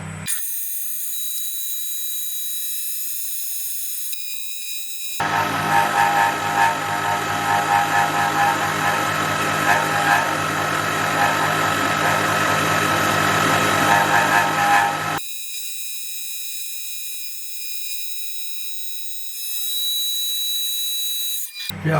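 A two-flute end mill cuts a steel mini-excavator mount: a steady grinding, whining cut about ten seconds long, set between quieter stretches of machine hum and hiss.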